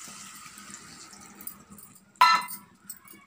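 Ground masala water splashes briefly into a pan of broad bean and dried shrimp curry, a short bright pour after a quiet stretch of faint clinks and kitchen handling.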